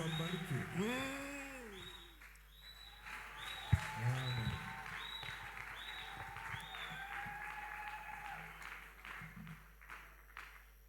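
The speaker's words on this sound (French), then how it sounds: "Merci beaucoup pour vos acclamations." A church congregation in Bukavu greets its pastor with faint applause. Cheering voices and sung or ululating calls rise and fall over the clapping, and it all sounds distant and quiet.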